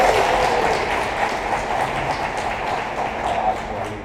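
Dense applause from a large crowd at a morning briefing for the 2016 Bodyflight World Challenge indoor skydiving competition rolls on as a continuous, even roar of clapping.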